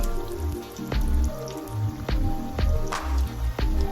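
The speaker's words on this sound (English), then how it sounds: "we are ready to start dropping them in the pan" Canned salmon patties fry in a pan with close, steady sizzling broken by sharp pops and spatters of hot oil.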